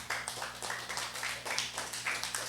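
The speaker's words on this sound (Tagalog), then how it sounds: "bigyan po natin ng malakas na palakpak ang Panginoon" Applause from a church congregation during a sermon, heard as faint, steady, evenly spaced claps in a slow rhythm with a low hum underneath.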